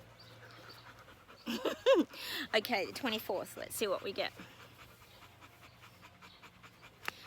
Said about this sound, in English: Oh, my dogs. Honestly, what am I going to do with them?